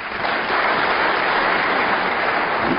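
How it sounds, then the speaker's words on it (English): Snooker crowd at the World Snooker Championship semi-final applauding, a loud, dense, continuous wash of clapping that fills the whole short stretch without talk. "A round of applause, but that's not the red he was trying to land on."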